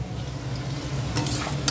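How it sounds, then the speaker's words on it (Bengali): Potatoes fry in a pan, giving a steady close sizzle with a brighter burst of crackle and stirring toward the end, and no voices. "এখানে আমাদের আলু ভাজা আলু ভাজা হচ্ছে"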